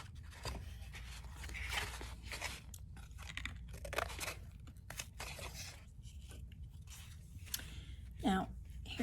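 Scissors cut through material in a string of close, crisp snipping crunches at an uneven pace, with quiet pauses between cuts.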